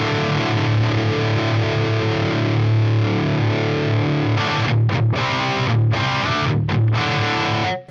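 An electric guitar played through a Diezel VH4 amp model in a Line 6 Helix gives loud, heavily distorted rock and metal tone, sustained chords giving way to tight palm-muted chugs with sharp stops near the end, no talking.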